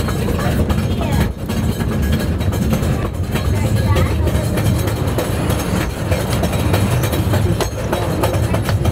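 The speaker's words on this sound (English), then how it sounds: "Und es ist eine Standseilbahn, wo es jetzt der andere Wagen auch noch entgegenkommt." A funicular railway car rolls past the oncoming car inside Marvel Cave, making a steady, loud rumbling and clattering that continues throughout while a person talks over it.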